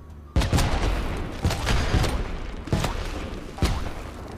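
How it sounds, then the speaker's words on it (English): Carpet bomb explosions in a video game, a loud close barrage of booming blasts landing one after another every second or so over a rumbling roar. "Wait, are those carpet bombs?"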